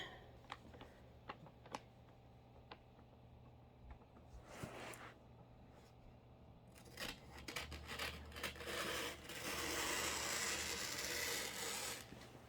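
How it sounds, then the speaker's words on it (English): Scissors snip and slide through wrapping paper, starting with a few sharp isolated clicks and then building into a longer rustling, gliding cut that grows louder toward the end, with no voices. "I love it when the paper, you start cutting and it glides really nicely."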